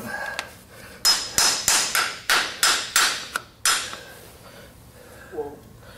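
Hammer driving four nails through a horseshoe into a tidy horse hoof during a farrier shoeing demonstration: about nine sharp, ringing metallic blows in a quick steady rhythm, close and loud, then quiet.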